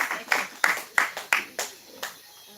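Claps ring out at a Women's Day celebration, about seven sharp, evenly spaced hand claps in a reverberant room, each decaying before the next.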